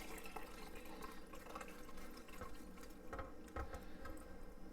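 Dr Pepper BBQ sauce poured into a degreasing pitcher, a soft continuous liquid trickle and splash, close and quiet, with no voices.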